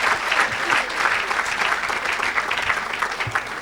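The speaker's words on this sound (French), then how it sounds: "Est-ce qu'on peut acclamer pour Jésus?" A church congregation applauds and cheers during an evangelist's service, steady dense clapping mixed with raised voices, moderately loud and sustained for several seconds.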